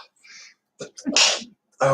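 A single close, sharp sneeze from someone blaming dust from a wood stove bursts out between brief breaths, with a voice starting to speak right after.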